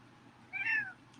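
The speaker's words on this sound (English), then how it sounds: "that's my cat, y'all, he's saying hi" A pet cat gives a single short meow close by indoors, clear over a faint, steady room hum, with no talk.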